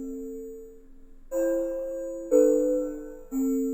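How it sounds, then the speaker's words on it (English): Soloed Serum synth pad, the Arctic Wind preset, playing four sustained chord tones in turn, each swelling and holding with a soft, clean, bell-like quality, alone and fairly quiet. "the pads are composed by this serum pad called Arctic Wind that soloed"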